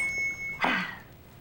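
A small hand bell rung once indoors, a bright ringing strike that rings out and fades over about half a second, with a faint steady tone before it.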